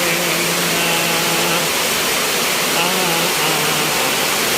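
Loud, continuous rushing floodwater after heavy rain roars without pause, a dense broadband torrent close by, with a faint low hum underneath.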